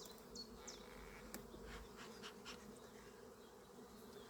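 Local honeybees buzz steadily inside an opened beehive during an early-season hive inspection, a dense close hum with a few individual bees whining past, alone with no talk.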